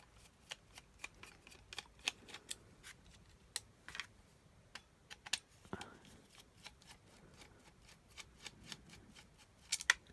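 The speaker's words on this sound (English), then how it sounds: "So I'll take the two screws out the back." Two small screws being backed out of the rear of a Shure PGX2 handheld wireless transmitter, heard as a close, quiet series of sharp clicks and ticks in irregular bursts.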